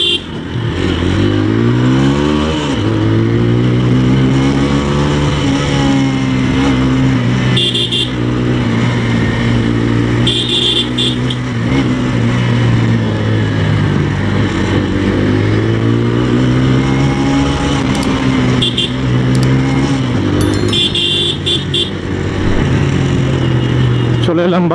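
A motorcycle rides at night through city traffic in Kolkata. Its engine drones loud and close throughout, rising and falling in pitch as the rider revs and shifts, and short horn toots from nearby vehicles break in now and then.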